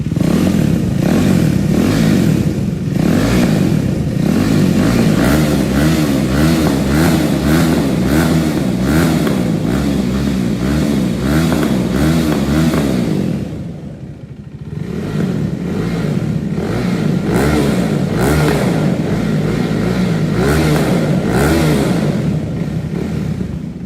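A KTM RC390 single-cylinder motorcycle with a slip-on exhaust revs loud and close, its engine note climbing and falling repeatedly, dropping briefly to idle before revving hard again.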